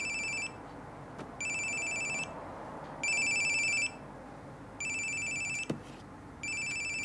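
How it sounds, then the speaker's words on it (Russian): A phone rings with an incoming call in five evenly spaced electronic trilling bursts separated by short pauses, fairly faint against a quiet room with a couple of soft knocks. "Тебе Кать звонит."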